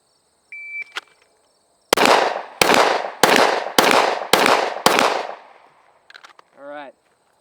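Six sharp pistol shots from a bill drill at 25 yards crack in quick, evenly spaced succession, loud and close, after a few small handling clicks, with a short electronic beep at the end.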